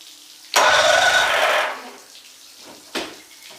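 A Mercury Force 60 HP outboard on a 2004 Nitro 640 LX bass boat cranks and catches in a loud, close roar lasting about a second, then drops away, followed by a short second burst of cranking.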